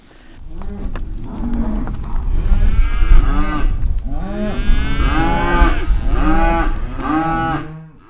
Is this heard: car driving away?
no